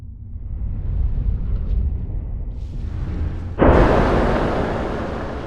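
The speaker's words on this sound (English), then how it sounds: "let's take a Ridge wallet and then let's shoot it inside, and let's make the bullets fuse inside the wallet" A gunshot fired into a titanium Ridge wallet: a low rumbling roar builds, then a sudden loud bright blast strikes near the end and decays into a sustained noisy wash.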